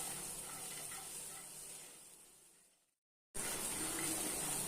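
Pre-roasted nuts lightly frying in a pan, a soft steady hiss and sizzle that fades, breaks off briefly, then returns at a similar faint level.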